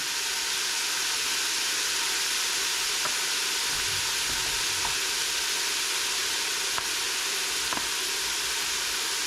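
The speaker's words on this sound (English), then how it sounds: "we're going to saute this for about 6 to 10 minutes probably, until everything gets soft and the onions get translucent" Onions and vegetables seasoned with salt and pepper sauté in a pan as the base for split pea and ham soup. A steady bright sizzle carries on throughout, with a few faint clicks of stirring.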